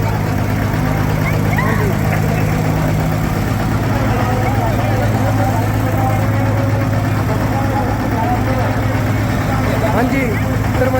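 A customized John Deere 5510 tractor engine idles with a steady, low chugging rumble throughout, close by, at a Punjabi tractor pulling contest, with voices over it.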